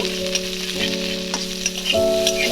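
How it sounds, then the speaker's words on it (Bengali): Green chillies, black cumin and cumin spluttering in hot oil, a close steady sizzle with sharp crackles and a sustained tonal hum underneath, no talk. "আমি দুটো কাঁচা লঙ্কা দিয়ে দেবো আর কালো জিরে আর সাদা জিরে ফোড়ন করব"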